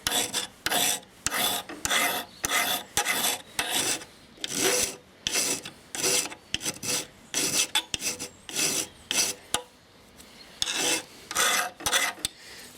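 A hand file rasps against the steel blade of garden pruning loppers as it is sharpened, in repeated strokes roughly every half second. The strokes are close and loud, with short pauses between passes and no talk.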